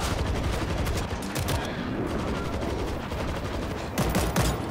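Dense, continuous gunfire from the zombie shooter game World War Z, rapid bursts layered into a loud, sustained fusillade with sharper shots near the end.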